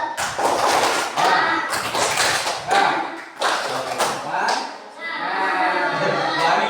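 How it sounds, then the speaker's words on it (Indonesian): Children in a group clap a rhythmic chant, the 'tepuk semangat' spirit clap, with bursts of sharp hand claps between shouted and sung voices. The sound is loud and close, with a steady beat running throughout. "Ini, ayo kita tepuk semangat dulu."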